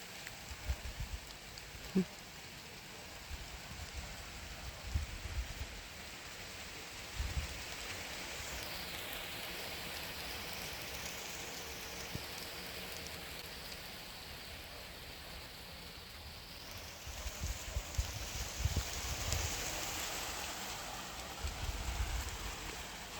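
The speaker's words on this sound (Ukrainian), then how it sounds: "Приємну, теплий літній дощ." Warm summer rain falls on a small vegetable garden as a soft, steady hiss, with occasional louder drips and patters scattered through.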